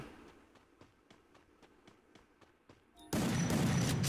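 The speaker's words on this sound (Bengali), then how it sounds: "ও শটগানের গুলি দিয়ে বোম বোম করে।" A rapid series of sharp, regular shotgun cracks in the game Free Fire, fairly faint, followed by a sudden loud burst of dense noise.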